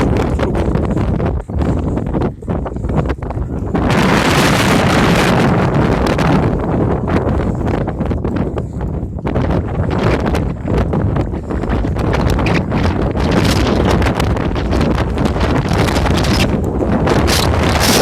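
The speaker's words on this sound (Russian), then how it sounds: "Какой ветер." Strong mountain wind in Teberda, Karachay, roars steadily into the microphone, loud and buffeting throughout, with gusty bursts and no voices.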